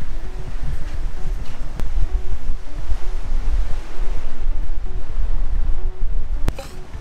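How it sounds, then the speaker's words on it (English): Steady gusting wind roars across the microphone on an exposed UK coast, with surf rumbling underneath and a low tonal hum throughout. "It's chilly, it's windy, it's everything you'd expect from the coast in the UK."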